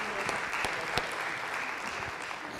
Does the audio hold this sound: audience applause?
yes